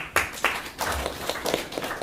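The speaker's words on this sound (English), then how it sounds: "Give them applause." A small audience at a talk on positive mental attitude gives a brief, sparse round of applause, a handful of distinct nearby claps in an uneven rhythm.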